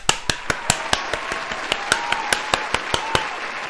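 Audience at a live French-language radio show applauding, heard as a steady series of sharp, evenly spaced claps, fairly loud and close, with no voices over it.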